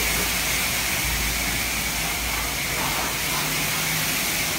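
A pressure washer sprays a V8 car at a self-service car wash, a loud continuous hissing jet close by without pause.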